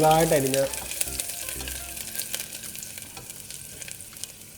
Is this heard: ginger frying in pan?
yes